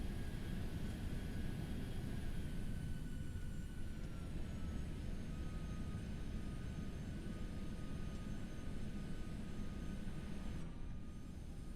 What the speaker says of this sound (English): don't mind the craziness with the reversers and stuff